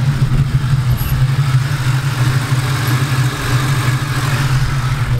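A naturally aspirated 2-valve Ford Mustang V8 with headers and an EGR delete idles with a steady, deep rumbling burble, close and loud, with no change in rhythm.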